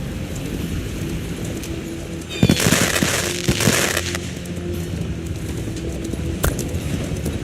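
Fireworks in the video game Call of Dragons: a burst of crackling pops and sharp bangs over a steady backdrop of game ambience, with a few scattered pops following.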